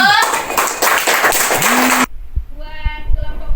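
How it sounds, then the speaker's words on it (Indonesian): A classroom audience claps for a student group presenting, a dense burst of hand claps for about two seconds that stops abruptly, followed by quieter tonal sounds and a few taps. "Tepuk tangan buat teman kita kelompok 1."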